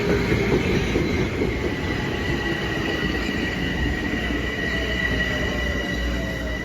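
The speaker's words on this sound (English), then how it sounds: "there's that train to White Plains" A 12-car Metro-North M7 commuter train bound for White Plains passes close by, a steady loud roar of rolling wagons with high squealing wheel tones and faint clickety-clack throughout.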